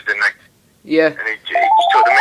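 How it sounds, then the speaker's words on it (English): A mobile phone rings during a boxing interview, its steady electronic tone emerging near the end beneath continuous conversation between men. "Oh, sorry, that's my phone going."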